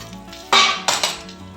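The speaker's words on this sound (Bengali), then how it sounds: "মিনিট পাঁচেক পর আমি ঢাকাটা তুলে নিচ্ছি" A metal plate used as a lid is lifted off a pan of banana-flower paturi, giving a close, bright clank followed by a second scraping clatter, with quiet kitchen background before and after.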